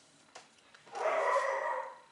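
Dogs in a home bark in a short burst: two faint early yips, then a louder, sustained stretch of barking near the end, with no talk over it.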